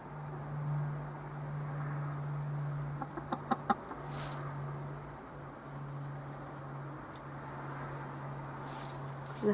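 Newly arrived backyard chickens clucking softly at close range, a low steady murmur of calls with a few sharper squawks partway through, no talking.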